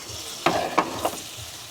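Potatoes in a pan for a village-style tangra fish curry give a soft background sizzle, broken by three quick scraping stirs close to the microphone.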